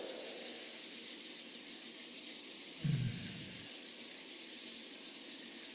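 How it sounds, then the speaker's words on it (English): Palms rub together during Ba Duan Jin qigong practice, a faint steady brushing friction throughout with a brief low thump near the middle, quiet and without talk. "Rubbing the palms together."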